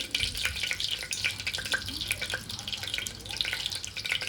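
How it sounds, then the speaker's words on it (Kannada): Cumin, mustard seeds and spices sizzle and crackle in hot oil for a moong dal khichdi. A steady close frying hiss with scattered pops runs through the whole clip, and no one speaks. "ಬಿಸಿ ಆಗಿದೆ, ಸ್ವಲ್ಪ ಜೀರಿಗೆ ಹಾಕ್ತೀನಿ, ಆಮೇಲೆ ಸ್ವಲ್ಪ ಸಾಸಿವೆ ಹಾಕ್ತೀನಿ"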